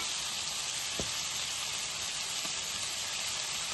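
Ginger garlic paste sizzles steadily in a pan with softened tomatoes and onions for butter chicken, a close, even hiss running throughout with a couple of faint low knocks.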